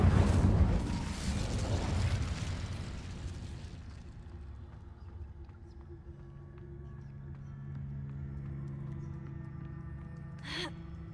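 Incendio fire spell cast in Hogwarts Legacy, a loud whooshing burst that fades into a low rumbling tail, followed near the end by one short sharp magical zing.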